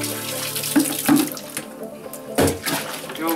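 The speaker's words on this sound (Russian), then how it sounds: "Виноградный сок течет просто ручьями." Grape juice streams through an ordinary kitchen colander during home winemaking in Hungary, a steady near liquid gurgle and trickle with a few louder splashy surges.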